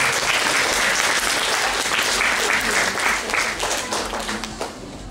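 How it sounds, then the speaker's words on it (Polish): Audience applause fills a hall at an art school's year-end concert, dense steady clapping from many hands that tapers slightly toward the end. "dla nich muszą być podwójne brawa"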